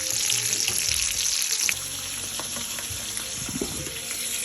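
Leftover fish paksiw frying in a pan, a steady close sizzle and crackle that runs the whole time, dropping slightly in level partway through, with no talking.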